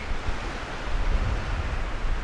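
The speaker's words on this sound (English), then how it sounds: "it is windy out here" Steady wind roars across the microphone with a low rumbling buffet at the Chimney Rocks cliff overlook in Michaux State Forest, Pennsylvania, continuous and fairly loud, no voices.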